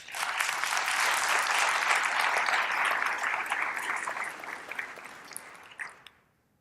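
Audience applause for a keynote speaker at a conference, a steady dense wash of clapping from a large crowd that holds for several seconds and then tapers off to silence.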